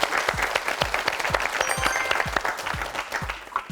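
Studio audience on a Korean TV word quiz show applauds steadily, dense overlapping claps at moderate loudness with no talk over them.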